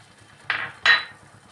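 A spoon clanks twice against a metal pot while stirring salted peanuts in water, two short sharp scrapes about half a second apart.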